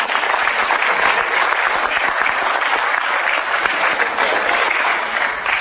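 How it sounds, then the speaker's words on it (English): Audience applause at a talk on gift judging, a dense, steady wash of many hands clapping close and fairly loud for the full length, with no voices over it. "Let's give him a round of applause."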